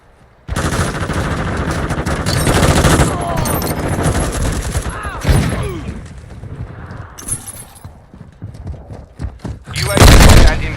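Rapid bursts of automatic gunfire and single shots in a first-person shooter game, loud and close, with sharp cracks and rattling volleys broken by brief pauses and a heavy blast near the end, while voices call out over the action.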